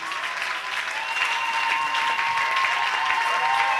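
A church congregation at a Sunday service bursts into sustained applause, a steady dense wash of clapping from many hands filling the room, with faint voices calling out beneath it.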